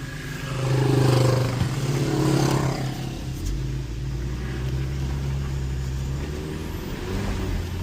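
Several off-road vehicles roll past on a dirt trail, engines swelling as they approach close by then fading into a steady low drone, with no talking.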